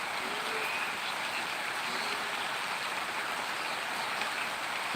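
Steady heavy rain hisses and patters without pause, with a faint frog croaking now and then in the background.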